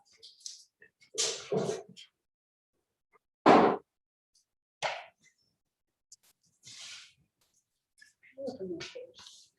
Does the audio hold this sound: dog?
yes